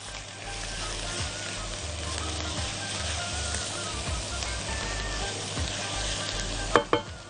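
Garlic fries and is stirred in a pan: a steady close sizzle with soft scraping strokes, ending in a couple of sharp clatters of a utensil against the pan.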